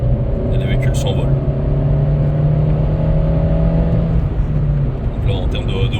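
A stage 1 tuned Opel Corsa E 1.4 turbo pulls hard under acceleration, its engine note a steady, loud drone with rising harmonics over about six seconds, with no talk over it.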